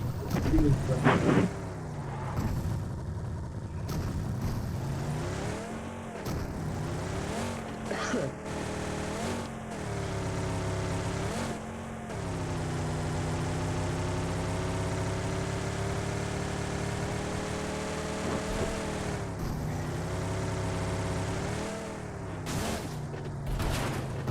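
Vehicle engine from the PUBG video game revving and shifting steadily while driving, with rising and falling pitch sweeps and a loud, continuous drone throughout; game music or effects are faintly mixed in.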